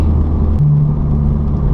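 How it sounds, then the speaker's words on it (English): A Chevrolet Cavalier with its muffler cut off idles and rumbles loudly nearby, a deep steady exhaust drone with a brief rise in pitch partway through, no voices. "Sorry about the exhaust noise."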